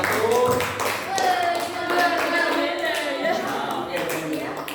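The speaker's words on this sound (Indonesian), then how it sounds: "Ya kasih aplaus dulu untuk kelompok 1." A classroom group claps for the first group after a presentation in a vocational high school mathematics statistics lesson, a brief burst of scattered applause under children's chatter.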